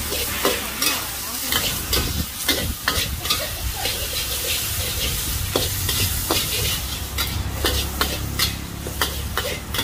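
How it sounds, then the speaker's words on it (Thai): Pad thai is stir-fried at the front of a restaurant in a continuous loud sizzle, with rapid, repeated metal spatula clangs and scrapes against the wok throughout. "มาถึงหน้าร้านแล้วจะมีการผัดโชว์ด้านหน้าเลยนะ"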